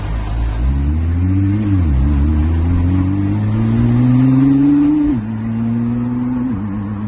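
A 2009 Nissan GT-R R35 engine revving nearby, loud sustained rises in pitch that climb steadily, drop sharply, then build again, with no talking over it.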